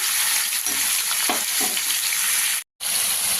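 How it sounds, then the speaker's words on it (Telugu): Chicken fries in a pan over a high flame with a loud, continuous hiss and crackle, briefly broken by a moment of silence. "మనము హైలోనే స్టవ్ తీసుకునేసి మనం ఫ్రై చేస్తున్నాం"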